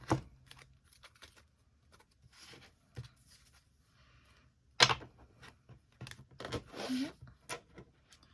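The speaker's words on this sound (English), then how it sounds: "Trying to shuffle it well for you guys" A tarot deck being shuffled by hand at close range, with quiet papery riffles and soft taps coming in irregular bursts, separated by near-silent gaps and a sharp louder snap partway through.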